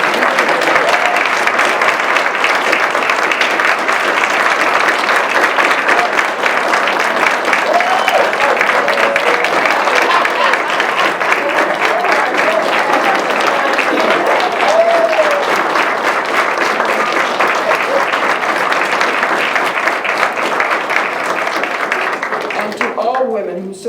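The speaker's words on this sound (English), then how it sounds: "let's give them all a round of applause for this." A long, full round of applause from the audience at the 2022 Phenomenal Women of Windsor Awards, loud and steady for over twenty seconds before tapering off abruptly at the end, with crowd voices blended in.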